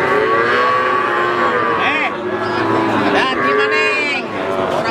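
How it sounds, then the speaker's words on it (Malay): Bustling cattle market in Blora with young calves and livestock traders and buyers: cattle moo and low bellows rise over a constant crowd din and a nearby engine, with people talking throughout. "inilah keseruan di pasar sapi"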